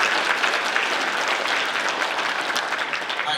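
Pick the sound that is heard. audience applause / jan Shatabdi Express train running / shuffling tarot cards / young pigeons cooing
audience applause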